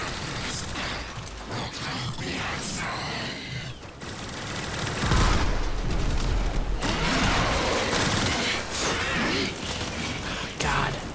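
Gunfire in the video game Warframe, dense bursts of shots and mechanical weapon clatter running throughout, growing louder and heavier midway, with a voice talking intermittently over the action.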